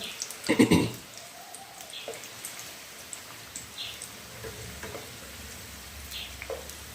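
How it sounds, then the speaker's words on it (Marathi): Mini samosas fry in oil over a low flame with a soft, steady crackle and sizzle, opened by a brief clatter and scattered light pops, at a low level throughout. "बाकीचे हे तळता येतात कमी गॅसवर"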